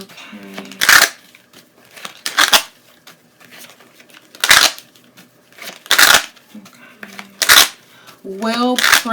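Tarot cards are shuffled in quick, crisp bursts, each riffle a short papery rush separated by pauses, close up, with a voice speaking briefly in between.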